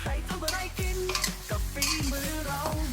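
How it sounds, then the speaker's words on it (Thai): Pork with onions stir-fried in a pan with sauce, sugar and seasoning powder, the spatula scraping and clanking in a steady rhythm over a continuous close sizzle, with no voices. "ผัดทุกอย่างให้ละลายเข้ากันอีกทีนะครับ"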